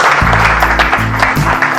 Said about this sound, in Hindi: एक शानदार तालियां हो